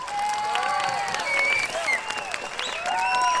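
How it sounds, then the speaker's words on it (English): Audience applause at a beginning band concert: a full, steady wash of clapping mixed with scattered whistles and cheers, loud and continuous throughout with no pauses. "One more round of applause for Mr. Badillo, please."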